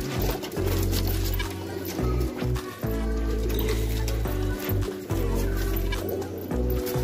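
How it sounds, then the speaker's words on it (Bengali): Sri Lanka pigeons for sale, white-headed birds, coo and murmur close by in repeated low throaty phrases with short pauses between them. "এটা কি পায়রা আছে শ্রীলঙ্কা পায়রা"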